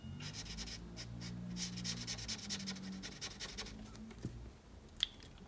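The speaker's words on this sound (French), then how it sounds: "on va utiliser la couleur jaune pour colorier cette partie-là" A yellow marker rubs across paper while a drawing of a Fortnite emoji is coloured in, giving a soft continuous scratchy stroking with a rhythmic back-and-forth texture and one small tap near the end.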